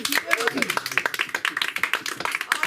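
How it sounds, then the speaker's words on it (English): Audience at a comedy show clapping, a close, brisk run of individual claps with uneven rhythm lasting the whole stretch. "Clap a little louder for the Fowler."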